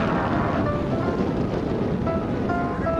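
An aerobatic airplane tumbling through snap rolls at a naval air station air show rumbles as a steady, broad roar from a distance, with wind-like noise and faint tonal whines throughout.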